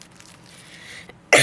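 A single sharp, loud cough bursts out near the end after a stretch of near silence in a quiet room.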